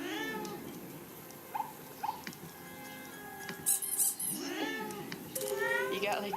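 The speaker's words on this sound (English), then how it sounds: "You got like 2 seconds to get the black cat." A black cat meows a few times inside a hidden object puzzle game, with game chimes and sound effects around it and a voice talking over parts.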